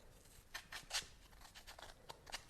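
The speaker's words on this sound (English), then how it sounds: "with scissors, all I'm doing is just making my edges a little bit" Scissors snip along the edges of a handmade shabby chic blue Christmas card to roughen them, a quiet run of small crisp cuts in irregular rhythm.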